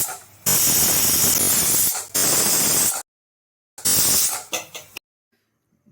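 A pressure cooker on country chicken curry, Andhra-style naatu kodi pulusu, lets out loud, hissing steam whistle blasts: a long burst, a second one, a pause, then a final burst that breaks into short spurts before stopping.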